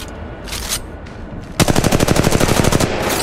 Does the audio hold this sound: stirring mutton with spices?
no